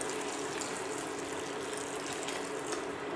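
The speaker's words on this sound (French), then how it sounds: "Et j'ajoute de l'eau que j'ai fait déjà bouillir dans ma bouilloire." Boiled water from a kettle pours steadily into a cooking pot in a home kitchen, a continuous close hiss and gush of liquid lasting a few seconds with no talking.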